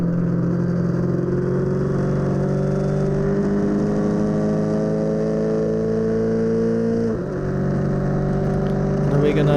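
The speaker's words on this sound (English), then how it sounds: "We've got another F3 car going by us." A Formula 3 race car passes close by an open-wheel Mono 1600 single-seater at Silverstone, the two engines droning loudly and steadily in high revs with a brief dip as gears change.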